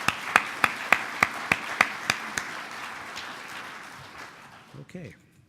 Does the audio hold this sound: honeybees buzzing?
no